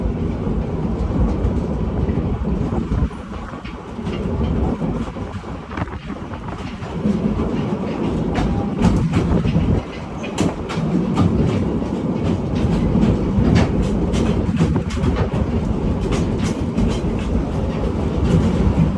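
Loud, continuous rumble of a train rolling along rails in Hawaii, with rhythmic clickety-clack and occasional metallic knocks.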